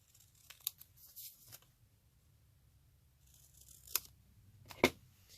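Scissors trimming the fold off thick junk journal paper, a few quiet snips and crisp paper cuts scattered over a near-silent background, the last one sharper.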